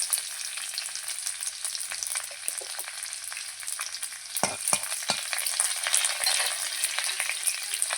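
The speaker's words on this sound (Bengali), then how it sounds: "এখানে দিয়ে দিয়েছি তেল এখান দিয়ে রসুন ফোড়ন আর দেবো কালো জিরে ফোড়ন" Garlic and black cumin seeds frying in hot oil give a steady, close crackling sizzle, with a few sharper pops and stirring knocks, and no voices.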